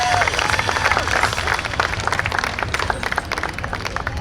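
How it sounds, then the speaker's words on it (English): A crowd at a fair applauds steadily after a State Police special operations rescue demonstration, dense clapping filling the space from start to finish, with a brief voice at the very beginning. "Round of applause, folks."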